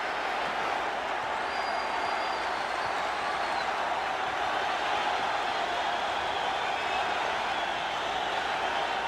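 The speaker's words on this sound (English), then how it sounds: "It's a non-stop cheer now in Boston Garden." A crowd in Boston Garden cheers without pause during Game 7 of the 1984 NBA Finals, a steady, distant roar that holds even throughout.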